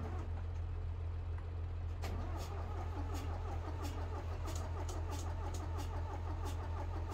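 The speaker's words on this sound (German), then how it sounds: "der geht aber auch spitze an, der Traktor hier" An Eicher tractor engine in a farming video game turns over and catches, then settles into a loud, steady low diesel rumble with a continuous drone and periodic clicks.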